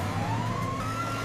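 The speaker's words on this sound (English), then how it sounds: "Sirens on!" A cartoon police car siren rises in a steady, continuous electronic wail over a low engine hum, loud and close for a brief moment.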